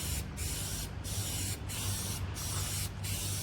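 A second coat of spray paint going onto a Fiat 500 roof, a steady close hiss of the aerosol in five pulsed passes with tiny breaks between them, no talk.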